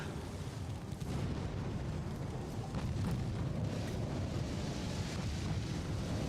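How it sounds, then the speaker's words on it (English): Heavy, continuous rumbling explosions and booming blasts from torpedo hits on a warship in the naval combat game Ultimate Admiral: Dreadnoughts, dense and sustained at close range with no gaps. "I had 2 torpedoes hit her?"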